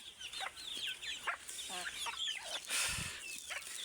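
A flock of chickens clucks and chatters at midday feeding, with busy overlapping calls and squawks close by and a low thump or two among them.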